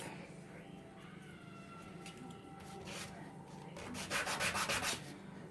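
Sandpaper rubbed over a small wooden miniature kitchen cabinet to remove burrs, quiet scratchy strokes that become a quick run of louder rhythmic rubs near the end.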